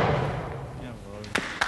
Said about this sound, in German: bei dem sie mit Kanonen Fußbälle auf die Torwand schießen